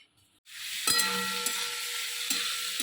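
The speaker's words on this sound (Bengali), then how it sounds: "চিংড়ি মাছগুলো আগে ভেজে নিচ্ছি" Prawns frying in a hot pan give a loud, steady sizzle that starts abruptly and holds throughout, with a few brief clatters of utensils against the pan.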